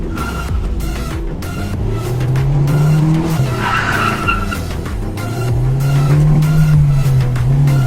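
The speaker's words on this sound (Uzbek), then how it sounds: "Hozir buni bitta test drive qilamiz." A Chevrolet Gentra running on a newly fitted STAG 200 GoFast LPG system during a test drive: engine drones and rises steadily with tyre squeal and skidding under hard driving, loud and close throughout with no talk.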